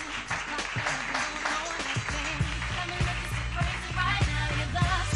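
Audience applause at a gala evening as photographers are called up, a steady wash of clapping under loud music with a strong beat and a voice announcing over it.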